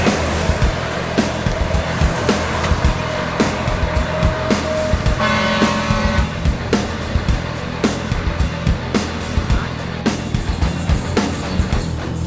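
An NPM intercity bus sounds its musical telolet horn in a brief melodic burst midway, rising above steady engine rumble and busy traffic noise.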